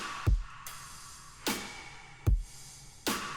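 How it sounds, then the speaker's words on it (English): A simple programmed drum pattern for an electronic drop alternates a deep, punchy kick and a bright, crisp snare, four hits in steady alternation, close and clean with no voices. "Just a simple snare and kick."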